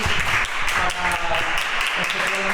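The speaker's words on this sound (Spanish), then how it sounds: "Un aplauso fuerte desde casa y desde aquí" Audience applause at a debate event breaks out, a dense steady patter of clapping throughout under some overlapping voices.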